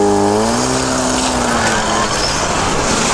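A Toyota SUV on 235 tires at low pressure drives over snow, engine droning loudly and close with a falling pitch at first, then a steady rumble and crunching texture.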